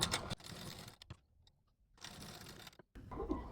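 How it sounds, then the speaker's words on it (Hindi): A sewing machine stitches across the tucks of a lined blouse in short, quiet runs of rapid whirring, broken by pauses, close and faint, with no speech. "चारों टेकिंग्स के ऊपर पहले एक एक सिलाई लगा लेंगे"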